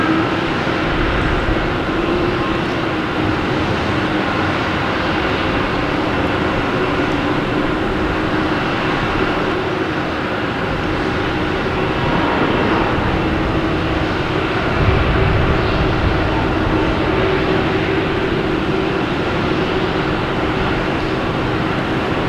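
An airliner's jet engines roar at Boston Logan Airport, a loud sustained broadband rumble that swells slightly mid-way, steady and without talk.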